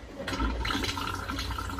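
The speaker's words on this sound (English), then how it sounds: "And the last thing to check out is the toilet." A toilet flushing inside a Fiat Ducato Maxi campervan, a short, close rush of running water with a steady gushing hiss and low rumble, heard alone without talk.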